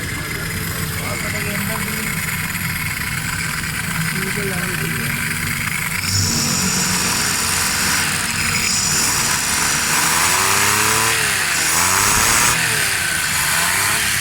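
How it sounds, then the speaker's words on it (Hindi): A Daihatsu Cuore automatic car engine runs steadily near the microphone and rises into revs in the second half, with someone talking over the engine noise. "माशाल्लाह स्टार्ट है गाड़ी, ज़बरदस्त साउंड है"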